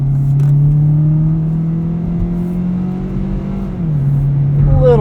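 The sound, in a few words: 2018 Kia Rio EX sedan engine accelerating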